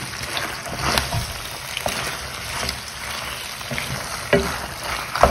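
Hot sauce being stirred into a sizzling pan for Roman pasta alla zozzona, a steady close frying hiss with soft scraping stir strokes and a few sharper clinks.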